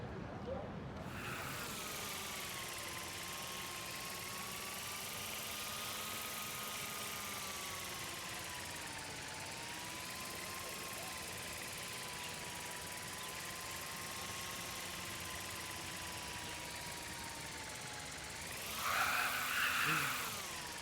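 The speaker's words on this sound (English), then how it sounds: "Here, give the drone a whirl around campus." A small drone hovers and flies around a school campus in Life Is Strange Remastered, giving a continuous buzzing motor whine whose pitch drifts gently up and down across the whole stretch.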